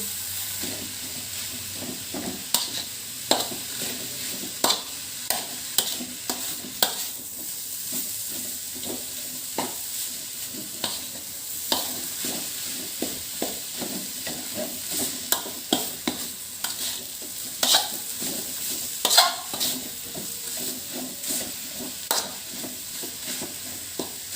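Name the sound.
stirring grated coconut frying in a pan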